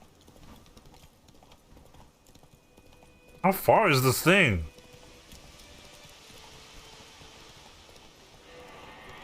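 Horse hooves gallop steadily in The Witcher 3: Wild Hunt, a soft continuous patter in the background while someone briefly speaks over it.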